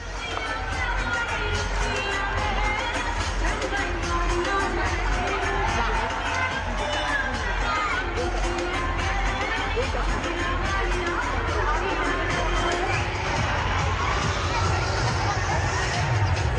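A large crowd of Indian diaspora in Sydney awaiting Prime Minister Modi, a continuous loud roar of chatter, shouts and cheering all around, with nearby voices talking over the din throughout.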